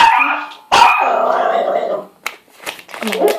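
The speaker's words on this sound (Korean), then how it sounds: "저희 강아지가 너무 짖어서" A dog barks sharply up close, followed by a sustained whining yelp, then a couple more short barks.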